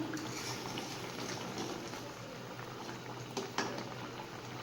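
Fish curry bubbling in a pot as the gravy reduces, with a steady close, soft simmering hiss throughout and a couple of brief clicks near the end.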